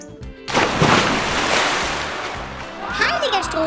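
A loud splash as someone jumps into water, followed by churning, bubbling water sounds that settle, with a brief voice near the end.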